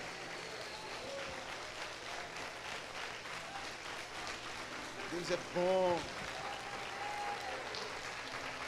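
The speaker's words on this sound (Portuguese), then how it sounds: "Dê um forte aplauso ao Senhor no seu lugar." Church congregation applauding in praise, a steady wash of clapping beneath a voice speaking and briefly singing over it.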